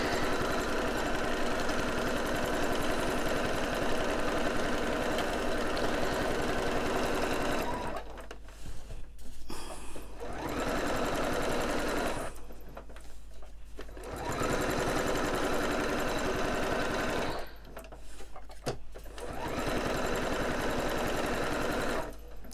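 Sewing machine running a straight stitch at the preset 2.5 length while shadow quilting, a steady close whirring drone in long runs broken by two short pauses.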